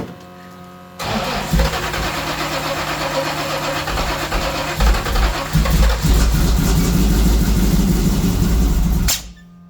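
Blown 383 V8 in a third-generation Camaro IROC-Z, said to have metal in the oil, cranks and fires after a second of quiet, then runs rough and loud with surging revs before cutting off abruptly.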